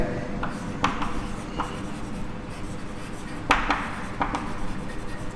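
Chalk or marker writing an equation on a classroom board during a chemistry lecture: steady scratchy strokes with a few sharper taps, moderately close, with no talk over it.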